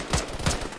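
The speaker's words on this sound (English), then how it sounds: "One heard some gunshots." Gunfire in a military combat game, two short cracking bursts about a third of a second apart, moderately loud over a steady background hiss.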